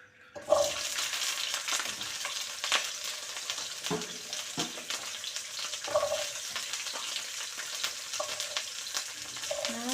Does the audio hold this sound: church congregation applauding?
no